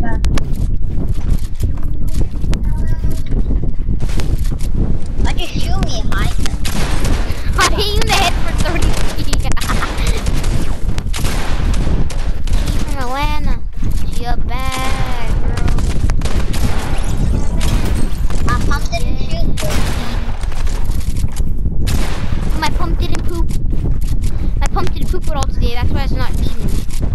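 Rapid bursts of gunfire in the video game Fortnite crackle repeatedly, close and loud, mixed with game effects while a player talks throughout.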